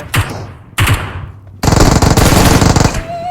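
Gunfire in the video game PUBG: two single heavy shots followed by a loud, rapid automatic burst lasting over a second, close and sharp, with no talking over it.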